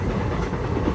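A Hyderabad Deccan to Purna Express train (17647) rumbles along with a dense, steady roar and faint rattling, heard briefly from on board.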